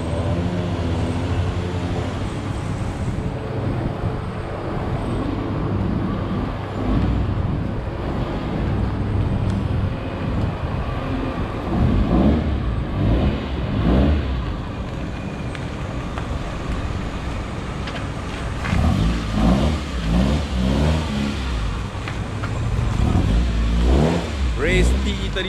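A clean 1989 Honda Civic EF 1.6i DOHC approaches on a road, its engine revving steadily louder over traffic noise, with rising surges toward the end and a voice talking over it.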